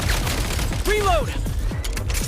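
Gun reloading in Genshin Impact during a Snezhnaya battle, mechanical clicks and ratcheting over a busy game soundscape with whooshing effects and battle noise, voices calling out nearby.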